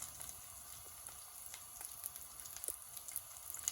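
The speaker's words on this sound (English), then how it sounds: "we're going to fry up some of the haggis" Haggis frying in a pan gives a faint, steady sizzle with soft crackles and pops scattered throughout, and nobody talks.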